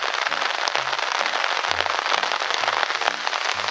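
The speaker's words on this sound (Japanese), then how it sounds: "半端じゃないでしょ、この雨。" Heavy rain hammers down on a golf course in a sudden downpour, a dense, continuous hiss of drops with scattered sharper patters, steady and close with no voices.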